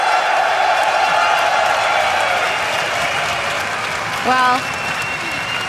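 Large arena crowd of around 11,000 applauding and cheering a home team at a League of Legends EU LCS finals, a dense continuous roar of clapping with whoops, while someone briefly speaks over it near the end.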